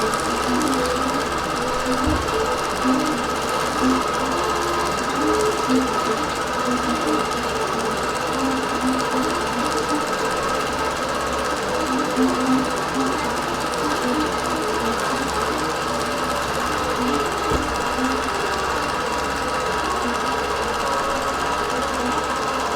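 A quilting machine stitches a winter quilting design with light powder blue isocord thread, giving a steady, continuous mechanical hum and rattle that runs unbroken and fairly loud from start to finish.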